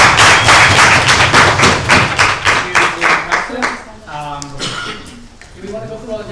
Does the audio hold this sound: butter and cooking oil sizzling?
no